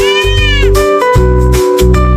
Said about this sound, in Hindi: ये छोटा सा बिल्ली का बच्चा यहाँ अकेला क्या कर रहा है?